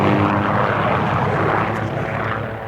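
A helicopter flies over the remote New Zealand backcountry. Its engine and rotor make a loud, steady roar that holds for the whole stretch, close and unbroken, with no voices.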